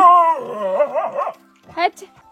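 A house dog barks at another dog spotted at a distance, giving a few close, loud, whiny bursts with a shorter yelp after a brief pause.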